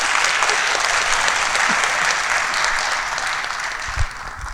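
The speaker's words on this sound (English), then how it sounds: "A round of applause for Dr." A dense, continuous round of audience applause fills a college hall at a Morehouse College Crown Forum event. It stays steady and loud from start to finish, with no talking over it.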